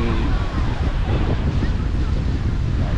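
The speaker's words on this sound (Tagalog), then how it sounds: "Dagat pa doon ito" Sea waves wash onto the shore in a loud, continuous roar with wind buffeting the microphone, close and without a break.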